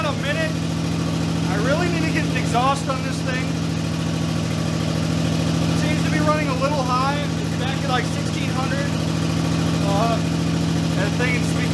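A Toyota 2JZ engine idles steadily after a vacuum leak repair, a constant near drone running the whole time beneath someone talking.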